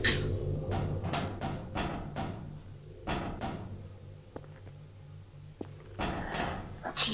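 A stuck TARDIS door bangs repeatedly in Garry's Mod, a run of hollow knocks and thuds in quick clusters, fairly close, with a few sharp clicks between.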